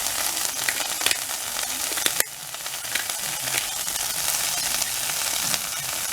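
Kale fries in a pan with garlic and pepper, making a steady, close sizzle with a few scrapes and clicks from stirring and one sharp knock near the middle.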